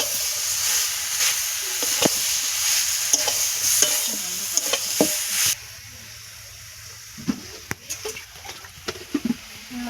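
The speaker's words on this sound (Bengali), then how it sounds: "এবার এটা ভালো করে কষিয়ে নেব মশলা দিয়ে" Vegetables sautéing with spices and turmeric powder sizzle loudly while a spatula stirs and scrapes the pan in repeated strokes; the frying hiss drops sharply partway through, leaving sparser scraping clinks.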